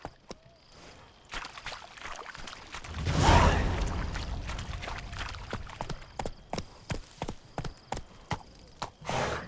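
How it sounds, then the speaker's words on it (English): Horse hooves clip-clopping in The Witcher 3 video game, a steady rhythmic patter of close, moderately loud hoofbeats with a brief louder swell of movement partway through. "Whoa there, Roach."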